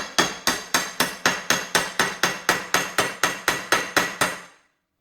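Steady, evenly spaced metallic hammer strikes ring out, about fifteen in a row, as a seized brake pin on a 1968 vehicle is tapped. The blows are sharp and close, each with a short ringing decay, and no one speaks.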